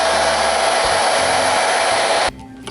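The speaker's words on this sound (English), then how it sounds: "I'm going to set the hair dryer on low heat and just try to heat up this area here a little bit" A hair dryer runs on low heat, warming the battery adhesive strips inside an iPhone 6; a steady, loud broadband whoosh holds for over two seconds, then cuts off abruptly, leaving faint room noise.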